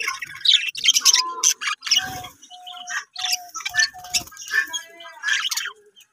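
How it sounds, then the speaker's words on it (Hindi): Pet budgies chirp and tweet in a busy, overlapping stream of bright calls from close by, with short squawks and brief pauses between bursts. "हमारे प्यारे बजीज का, बहुत ही खूबसूरत बर्ड्स हैं हमारे"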